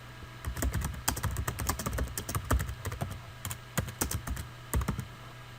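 Rapid keystrokes on a computer keyboard while a line of Python code is entered, an uneven run of close, crisp clicks and thumps with a few louder key strikes and no speech.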